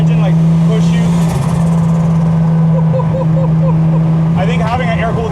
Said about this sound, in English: I think having an air-cooled engine just feels more mechanical.